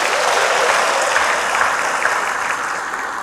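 A large crowd at a PPPK appointment ceremony in Oepoi Stadium, Kupang, gives loud, sustained applause, a dense, even roar of clapping that fades slightly toward the end.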